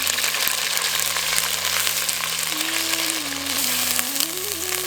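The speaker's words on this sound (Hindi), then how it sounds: "बर्तन के गर्म होते ही थोड़ा सा तेल डालकर उसके साथ पिसा हुआ अदरक और लहसुन डालें।" Ground ginger and garlic fry in a little hot oil in a pot, the start of a fish curry, giving a steady, close sizzle over a faint low hum, with no one speaking.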